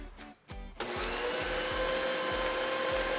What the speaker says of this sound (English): Now continue to beat that on medium-high for about 10 minutes.